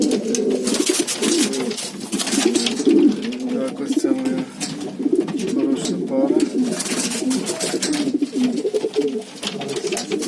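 Pigeons, a mating pair, coo repeatedly in low throaty rolling calls close by, with someone talking over them and faint rustling throughout.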